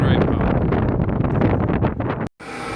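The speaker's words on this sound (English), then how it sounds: "Pretty windy today." Strong wind buffets the microphone outdoors beside a river, a loud continuous rushing roar with gusty surges that ends in an abrupt cut.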